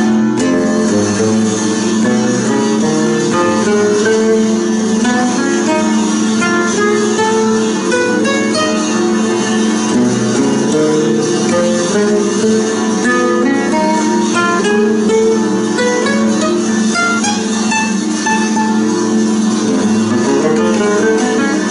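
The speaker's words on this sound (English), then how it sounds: "Here we have the mystic scale of Scriabin for B altered." A guitar plays the Scriabin mystic scale on B altered, steady dense notes and chords sounding continuously and fairly loud throughout.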